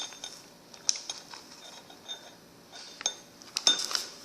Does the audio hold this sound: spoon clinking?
yes